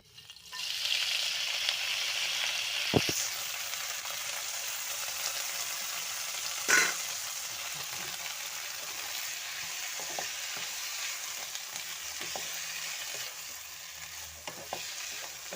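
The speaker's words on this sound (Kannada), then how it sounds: "ಎಣ್ಣೆ ಒಂಚೂರು ಕಾದ್ಮೇಲೆ ಅದಕ್ಕೆ ಬಾಡಿಸ್ಕೋಬೇಕು" Amaranth greens sautéing in hot oil give a steady, moderately loud sizzle with occasional sharp clicks of stirring, no voices.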